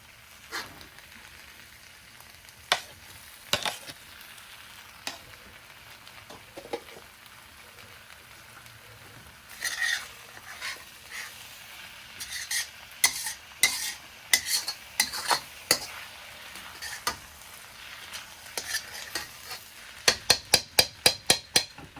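Shrimp being stirred into fried rice in a pan, with scattered scraping clicks of a utensil over a faint sizzle, building to a denser run of rapid stirring taps near the end; no talking.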